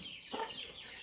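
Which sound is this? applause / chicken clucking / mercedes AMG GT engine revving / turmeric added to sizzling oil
chicken clucking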